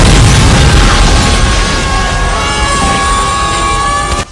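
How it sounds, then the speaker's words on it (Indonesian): A building explodes in a Rush Hour 2 (2001) action scene in Las Vegas, a sustained, loud, roaring blast with dense rumbling debris that fills the whole stretch before cutting off abruptly. "saat detektif Lee dan detektif James Carter lompat dari gedung yang meledak."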